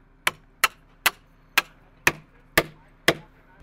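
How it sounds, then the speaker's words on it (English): Seven sharp, evenly spaced knocks as a wooden log post is tapped into place while building a log cabin's second story, close and loud with no speech. "I gotta tap the post that way a little bit."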